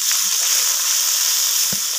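Small fish frying in a pan over a clay stove, a steady hissing sizzle up close while being stirred, with a soft knock of the utensil near the end.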